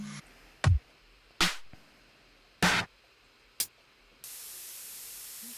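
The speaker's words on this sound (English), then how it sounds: "then you can even layer some white noise over this to kind of like help blend everything" White noise is layered over a music track to blend it, coming in as a steady hiss near the end after a few sharp isolated hits and clicks.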